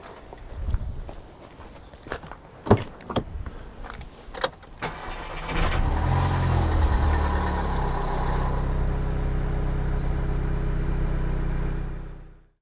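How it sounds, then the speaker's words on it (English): A Mk5 VW Golf GTI with the 2.0 TFSI engine, just refilled with fresh oil, is heard first through a handful of sharp clicks and thuds, then the engine cranks and fires around six seconds and settles into a steady, loud idle that cuts off near the end. "So let's just get the engine running."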